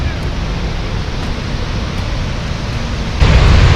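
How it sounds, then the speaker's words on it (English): Goðafoss waterfall in northeastern Iceland gives a steady, close, full-bodied roar of falling water that rises slightly louder near the end, with no voices. "We're at the waterfall of the gods."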